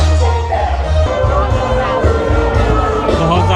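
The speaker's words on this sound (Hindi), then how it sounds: "बहुत ज़्यादा भीड़ हो रखी है" A large, dense New Year's Eve crowd at Adelaide Oval, a loud continuous babble of many voices with scattered cheers close around.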